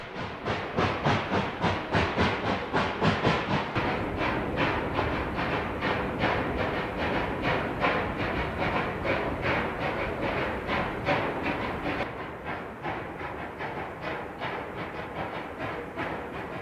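Two Rio Grande narrow gauge Mikado steam locomotives climb a grade at a highway crossing, their exhaust chuffing in a loud, steady, rapid rhythm that lasts throughout and eases slightly toward the end.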